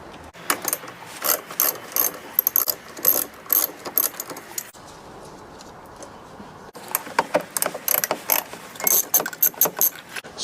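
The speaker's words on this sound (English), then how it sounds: "Take my 10mm socket and then undo this battery." A ratchet with a 10mm socket clicks rapidly while loosening a car battery terminal, close and loud bursts of ratcheting that pause briefly in the middle before resuming in quick runs.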